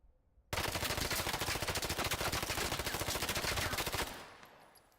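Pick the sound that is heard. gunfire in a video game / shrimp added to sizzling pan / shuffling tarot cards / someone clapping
gunfire in a video game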